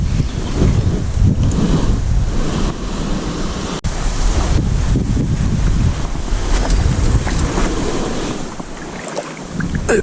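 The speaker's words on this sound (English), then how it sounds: "Very windy today" Strong wind roars and buffets continuously outdoors at a quarry, with loud rumbling gusts battering the microphone throughout.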